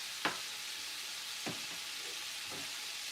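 Shrimp frying in a pan give a soft, steady sizzle, with a few brief sharp clinks or pops on top and no talk.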